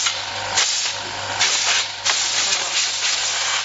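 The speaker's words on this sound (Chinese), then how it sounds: "我们把气充一下，" An electric air pump powered by an inverter runs up close, making a rhythmic hissing chug of repeated air bursts about every half second with a low steady hum underneath.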